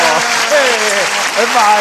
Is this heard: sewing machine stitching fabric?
no